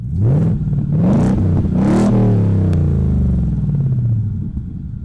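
A supercharged truck engine revs hard three times in close succession, each rise loud and rasping through a loud exhaust, then settles into a deep, steady rumble that carries on at high volume.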